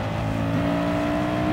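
Race cars in Gran Turismo 7 close in on a corner, a steady, loud engine drone with sustained tonal whine and slight pitch movement, with no talk over it.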